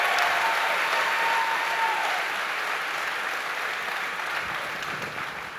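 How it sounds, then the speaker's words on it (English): Concert audience at a high school spring concert clapping warmly, a thick, sustained wash of applause that gradually tapers in loudness toward the end, with no voices over it. "But can we give Mrs. Bird a round of applause for helping us with that?"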